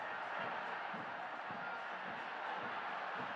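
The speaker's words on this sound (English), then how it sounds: "Crowd urging this Motagua side on" Football stadium crowd at a Concacaf League match between FC Motagua and Comunicaciones FC, a steady broad roar of supporters urging Motagua on, continuous and distant-sounding with rhythmic low pulses of chanting or drumming throughout.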